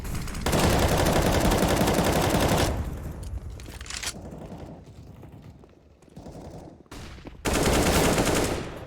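Counter-Strike gunfire during a competitive match: long, dense bursts of rapid automatic shots, loud and close, broken by a quieter stretch of scattered game sounds before another heavy burst near the end.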